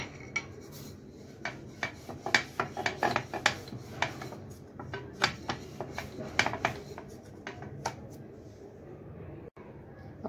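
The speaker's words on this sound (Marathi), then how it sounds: "आपली पोळी लाटून झालेली आहे" Chapati dough being rolled out with a rolling pin for masala lachha paratha, a steady run of soft rubbing and scraping strokes with light knocks, close and moderately quiet, with no talking.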